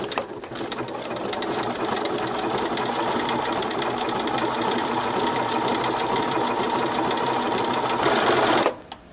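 A sewing machine stitches around a circular coaster in one steady, fast, close whir lasting several seconds, then stops sharply near the end.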